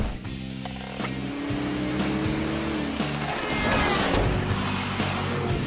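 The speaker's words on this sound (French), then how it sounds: "Je vais faire un tour en voiture." A cartoon car from an animated series pulls away, its engine note rising over clattering mechanical sounds and a sudden swell of noise midway, loud and close without speech.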